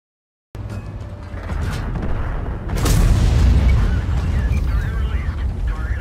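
Tank cannon fire and an explosion in World of Tanks: a loud broadband blast erupts, then heavy low rumbling and crackling debris continue, with game voice lines over the din.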